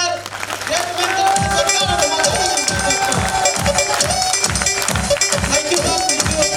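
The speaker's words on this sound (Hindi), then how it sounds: "एक बार खड़े होकर के हो हल्ले के साथ जबरदस्त तालियों से स्वागत कीजिएगा" An audience rising to welcome honorees at a recognition ceremony with loud applause and cheering, a dense steady roar of clapping alongside rhythmic thumping beats.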